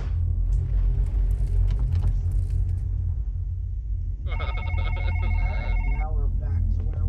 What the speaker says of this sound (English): I'm gonna go get that phone